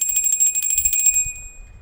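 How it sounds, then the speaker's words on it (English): A bell is rung to cleanse the space during a live tarot reading, giving a bright, sustained ringing tone that shimmers for about a second and then fades, heard alone without voices. "we're going to do the cleanse the space with the bell"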